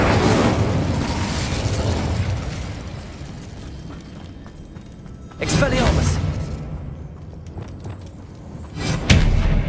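Incendio fire spell being cast in the video game Hogwarts Legacy, with bursts of whooshing flame rising out of a rumbling game soundscape, including one burst partway through and another louder one near the end.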